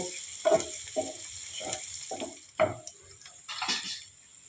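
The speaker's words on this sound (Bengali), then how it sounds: "বন্ধুরা পেঁয়াজগুলোকে একটু হালকা করে ভেজে নেব।" Onions with chopped green chilli fry lightly in a pan for a Bengali spicy chicken ghugni: a soft sizzle runs underneath while a utensil stirs in rhythmic scraping strokes, about one every half second.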